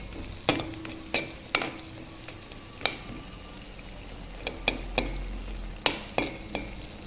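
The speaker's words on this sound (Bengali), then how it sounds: "এর মধ্যে আমি বড়িগুলো একটু ভেজে নেব" Lentil dumplings (bori) fry in hot oil in a wok under a low, steady sizzle, broken by sharp metallic clinks and scrapes of a spatula against the pan, with no voices.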